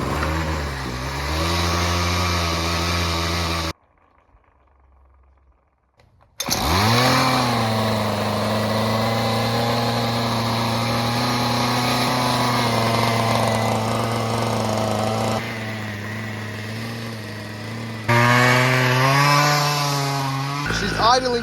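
A small two-stroke string trimmer engine, freshly tuned, runs steadily and loud, cuts out for a few seconds, then restarts and idles with slight rises in pitch.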